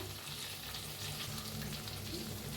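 Spiced aubergine masala with coriander, chilli and cumin powders and crushed peanuts sizzling in a pan as it is stirred, a steady close frying hiss with soft scraping throughout.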